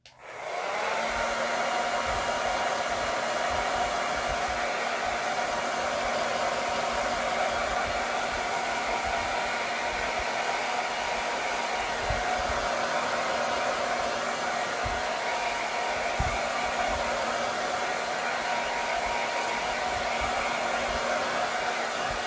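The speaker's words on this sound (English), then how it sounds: "I'm going to hit it with my blow dryer." A hair dryer runs continuously at close range, a steady loud whooshing roar with a constant motor hum that never changes.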